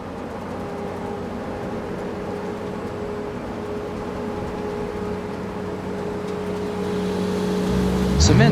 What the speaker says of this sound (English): Vehicles carrier truck.